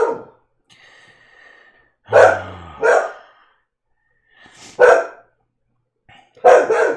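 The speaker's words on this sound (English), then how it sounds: "You're a good guard dog." A guard dog barks in sharp, close bursts, a pair of quick loud woofs followed by a pause, then another bark and a final double bark, with soft breathing between and no talking.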